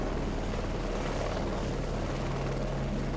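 A small, older Polish military helicopter in the combat flight game Heliborne drones with a continuous, dense rotor and engine roar, steady and loud with no pauses or voices.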